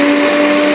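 A cheap CEEOL MISSCEO multifunction kitchen robot blender runs at full power, giving a loud, steady, harsh motor whine with a constant droning tone throughout.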